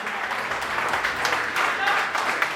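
A crowd at an office-bearers' oath-taking ceremony of a clerks' bar association in Kamalia, Punjab, applauds enthusiastically, a thick stream of clapping with sharper bursts on top.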